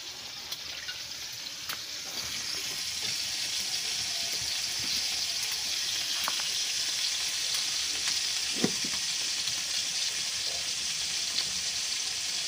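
Fish sizzling steadily in hot oil in a home kitchen, a continuous broadband frying hiss that holds level throughout with a few faint clicks and one brief clatter, no voices.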